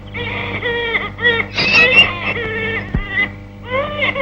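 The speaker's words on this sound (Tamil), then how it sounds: "என்னடா அது குழந்தை கத்துற சத்தம் கேக்குது?" Infant crying in short, wavering bursts with whimpering pauses between, fairly close and alone in a quiet room, with a brief thump partway through.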